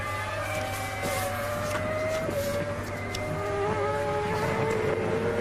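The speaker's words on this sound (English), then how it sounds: "Let's just listen to the engine" A Formula 1 car engine at the 2002 San Marino Grand Prix warm-up sings at high revs, its tone rising and dropping through gear changes as it laps, heard at a moderate distance under a steady background hum.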